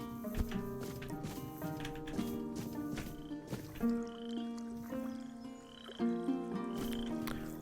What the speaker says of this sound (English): Hearing frog croaks